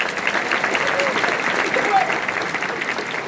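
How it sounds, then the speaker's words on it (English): Audience at a school awards ceremony gives a steady round of applause for a school board chair, dense, continuous clapping throughout with voices faintly mixed in. "Big round of applause, please."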